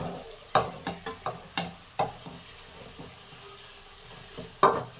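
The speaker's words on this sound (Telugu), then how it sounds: "కొంచెం గరం మసాలా, అన్నీ కలుపుకున్నాము" Liver frying in a pan with garam masala being stirred, a series of close scraping clacks of the spoon against the pan over a faint continuous sizzle, with a sharper knock near the end.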